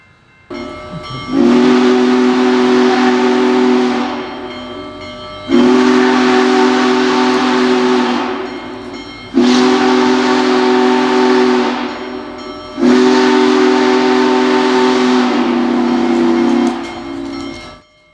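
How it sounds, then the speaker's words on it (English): The steam whistle of Union Pacific Big Boy 4014 locomotive sounds four long, loud chord blasts with short gaps between them, the last blast longest, carried over a steady background hiss of steam. "With a few blasts of the whistle, the train is ready to depart and continue southbound towards Watseka."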